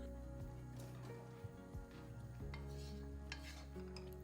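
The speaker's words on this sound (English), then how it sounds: "We give the rice a little stir." Rice is stirred in a pot of boiling water, giving soft, faint scraping and swishing strokes over a low steady kitchen hum.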